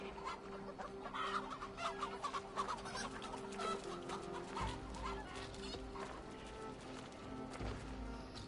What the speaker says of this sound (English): Oh, playing with chickens now.